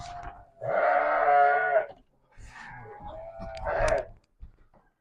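Sheep raised for Tabaski on a silage-fed farm let out two loud, close bleats, the first long and steady, the second shakier after a short pause, with faint low sounds between them.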